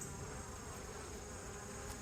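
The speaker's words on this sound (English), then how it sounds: "a lot of the forager bees are going to be in the hive" Honeybees buzz around an open hive on an overcast, damp day after a thunderstorm, a faint steady hum of many wings with no voices.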